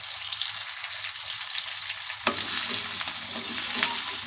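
Onions and curry leaves frying in a pan for onion chutney: a steady hiss of oil, then louder crackling sizzle with scraping stirs after the leaves go in, close and alone.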